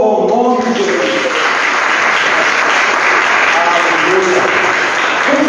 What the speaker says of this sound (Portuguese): E as palmas louvam o nome de Deus.